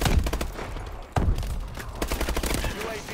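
A sentry turret in a hardpoint video game match rattles off rapid bursts of gunfire, dense overlapping shots up close with a heavy thump midway through.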